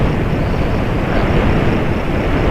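Plane flying in the Homebrew Vehicle Sandbox video game, a loud, steady engine roar with wind-like rushing noise that holds constant without a break.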